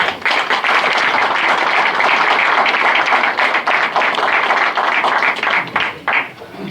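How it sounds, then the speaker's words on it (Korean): Applause fills a hall at a regular meeting of a merchants' association, welcoming an adviser who is about to give a congratulatory speech. Loud, sustained clapping from the gathered audience continues steadily, then tapers off near the end. "박수로 맞이해 주시기 바랍니다"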